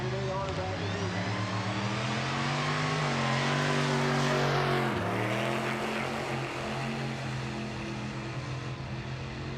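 Drag racing cars launching at Summit Racing Midwest Drags, Mark Fisher's big-block 1932 car among them, their engines roaring loud and steady with rising revs and pitch sweeps, an announcer talking over them.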